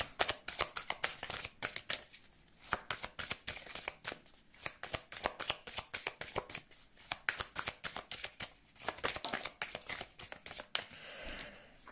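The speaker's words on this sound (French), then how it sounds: "on prend quelques cartes du côté sentimental" Tarot cards being shuffled, handled and drawn in a steady run of crisp riffling and flicking sounds with brief pauses, close and moderately quiet, with no speech.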